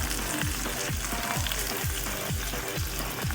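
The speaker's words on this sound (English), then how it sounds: "You hear it sear and sizzle" Dandelion greens sear in a cast iron frying pan, giving a continuous, loud, close sizzle with a steady crackling hiss that does not let up.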